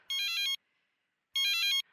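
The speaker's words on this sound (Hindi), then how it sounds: "अरे भैया, किसका फोन आ गया?" An incoming call sets off a phone ringtone in an Indian TV comedy scene, two bright electronic ringing bursts separated by a short silence, close and clear with no talking.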